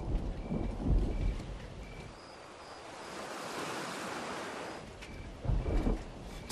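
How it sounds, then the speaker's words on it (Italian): Rain falls steadily with low rumbles of thunder rolling in and out, a continuous wet hiss under deep bursts at the start and near the end, with no voices. "Inizia a piovere anche qui."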